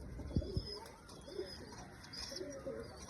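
Pigeons give soft, low coos, a few close ones at the start and more scattered later, under faint background voices.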